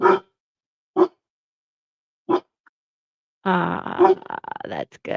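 A dog barks three times at roughly one-second intervals, loud and near with silence between, followed by a person speaking briefly.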